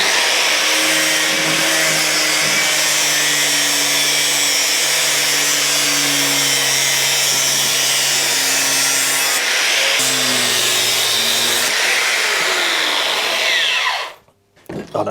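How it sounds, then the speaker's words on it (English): A power tool grinds a metal surface flat during a Royal Enfield Bobber build, a loud, continuous whining grind with shifting pitch as the tool moves, running steadily before cutting off abruptly near the end. "what I'll do first is sort of grind down in that direction till we've got that about level"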